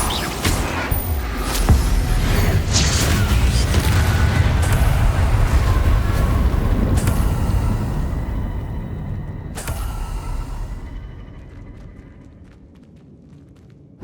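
Bombarda blasting spell going off in Hogwarts Legacy, a loud booming explosion with a rolling rumble that holds for several seconds, then a second sharp blast before fading into quieter ambience.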